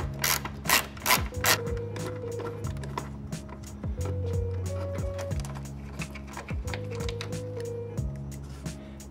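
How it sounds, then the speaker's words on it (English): An 8mm socket wrench ratchets bolts off an interior light housing on a second-generation Honda Pilot, with steady close clicking in repeated bursts, a few sharper knocks at the start, and no talk. "All you're going to need is a 8mm socket and a socket wrench."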